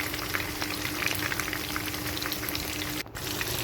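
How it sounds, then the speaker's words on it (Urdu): Fish fries in hot oil for a dhaba-style fish fry, a steady dense sizzle and crackle that holds close and even throughout, with a brief dip near the end and no talk. "یہ دیکھیں ماشاءاللہ سے ہماری فش بہت اچھے طریقے سے فرائی ہو رہی ہے"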